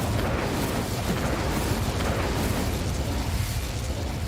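An Incendio fire spell cast in Hogwarts Legacy gives a steady, loud roaring whoosh of flame that holds unbroken for about four seconds.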